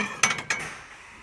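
Two or three light clinks of dishes or tableware, close by and fairly quiet, fading into a soft hiss.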